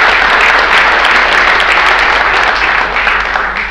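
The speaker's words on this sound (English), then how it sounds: "Please give Shane a round of applause." A large audience applauds loudly and steadily for Shane, dense sustained clapping from a big crowd that fades slightly at the end.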